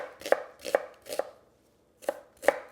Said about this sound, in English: We're gonna start off by finely chopping an onion.